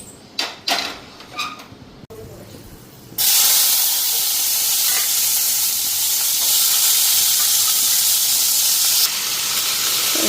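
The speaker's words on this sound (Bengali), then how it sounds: "এদিকে ভাজাটা বসাই দিলাম" Potato fry hits a hot pan in a home kitchen and breaks into a loud, steady sizzling hiss that holds to the end, preceded by a few clattering knocks and handling sounds.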